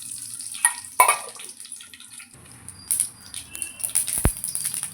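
Mustard seeds and urad dal frying in hot oil for a potato varuval, giving a close, steady crackling sizzle dotted with sharp pops and spits.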